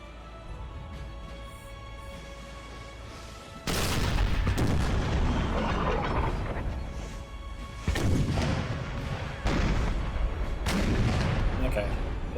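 Cannon artillery booms in Napoleon: Total War as a battery of seven guns fires, with several heavy blasts spaced seconds apart over a low battlefield din while someone talks.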